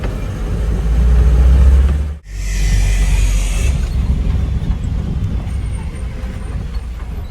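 Mahindra Bolero Pickup engine revving loud and close, briefly cutting out, then settling into a steadier drone as the pickup drives off on a rural road.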